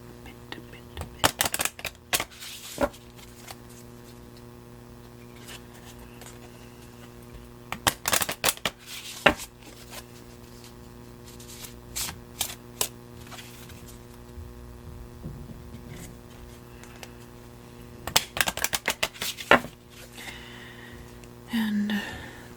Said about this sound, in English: And I'm just going to shuffle these a bit.